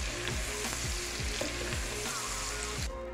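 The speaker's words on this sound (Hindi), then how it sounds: "लहसुन और अदरक का जो पेस्ट है इसे भी मैं कोफ्तों के साथ अच्छी तरह फ्राई करूँगी" Garlic and ginger paste frying in oil with chicken koftas, a dense continuous sizzle broken by repeated scraping stirs of a spoon in the pan, close and fairly loud with no talk.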